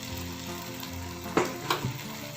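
Roasted, ground ginger goes into a boiling Kerala-style spicy, tangy ginger curry in a pan, giving a steady close sizzle and bubbling with two brief sharp stirring knocks near the end.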